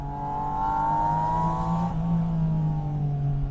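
A Porsche engine revs as its PDK gearbox downshifts from 5,000 RPM, a steady close engine drone that shifts pitch midway through the downshift, with no one speaking.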